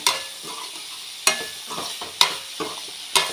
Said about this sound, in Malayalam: പിന്നെ അല്പം ഞാൻ ഉള്ളി ഇട്ടിട്ടുണ്ട്, പച്ചമുളക് ഇട്ടിട്ടുണ്ട്, കുറച്ച് മഞ്ഞൾപ്പൊടി, ഉപ്പ്. ഇത് ഇത്രയും എടുത്തിട്ട് ഞാൻ വഴറ്റുവാണ്